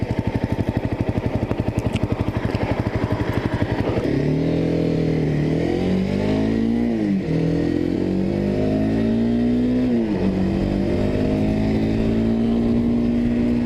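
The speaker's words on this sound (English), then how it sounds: "I'm gonna let these cars that are coming past" Cars driving past on a street, heard from inside a vehicle: a close engine drone with a rhythmic idle pulse at first, then rising and falling tones as vehicles go by, loud and steady.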